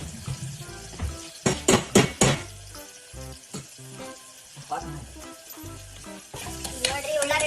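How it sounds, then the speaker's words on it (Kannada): Onions frying in a pan toward golden brown for kuskus upma, with an even sizzle under loud scraping and clattering bursts from stirring that come and go in clusters. "ಉಳ್ಳಾಗಡ್ಡಿ ಸ್ವಲ್ಪ ಅದು ಅಂತಾರಲ್ರಿ ಗೋಲ್ಡನ್ ಬ್ರೌನ್ ಆಗೋಮಟ ಕಾಯ್ತೀವಿ"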